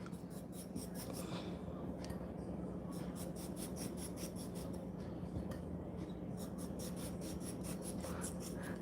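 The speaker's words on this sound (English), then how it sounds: "Let me just cut the salad." A knife cuts salad on a board in a series of soft, rapid rasping chops in bursts, fairly quiet over a steady background hum.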